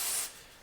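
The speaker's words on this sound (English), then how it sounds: "all I've got is silicone spray at the moment" A can of silicone spray hisses in a short burst onto an old DKW Hobby moped being revived as a barn find, a close, loud spray that cuts off and leaves a faint hiss.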